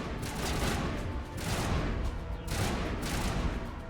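Sustained video game gunfire in dense, continuous bursts, loud and close, with brief swells as volleys intensify and almost no speech.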